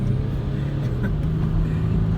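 A car drives along with a continuous low engine hum and road rumble, steady and moderately loud from inside the cabin, with no clear talk.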